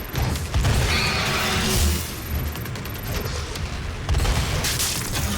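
Dense, loud barrage of rocket launcher blasts and explosions in a Doom boss battle against twin titans, with mechanical clanks and repeated heavy booms rolling throughout.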